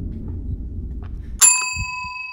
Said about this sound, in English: Should I ring the bell again?